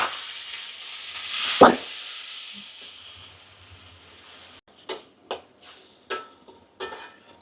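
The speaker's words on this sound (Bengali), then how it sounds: "আমরা এখন এটা মশলাটা একটু ভাজা ভাজা করে নিয়ে বাকি মশলাগুলো দিয়ে দেব" Ground ginger, garlic and onion paste hits hot oil in a pan with one sharp, loud hissing burst. A quieter sizzle follows, then several distinct scraping strokes as the paste is stirred.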